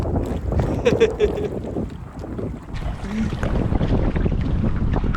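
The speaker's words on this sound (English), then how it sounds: "when you're just going into a hard headwind" Strong wind buffets the microphone while a solo canoe paddles into a hard headwind on open water, a loud continuous rumble and whoosh with splashing throughout and a faint voice briefly in the gusts.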